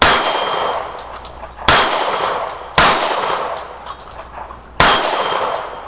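Pistol shots from an STI Elektra 9mm firing hand loads at steel plates: three sharp, loud reports about a second apart, each followed by a bright metallic ring from a struck plate, with a fourth shot after a longer pause.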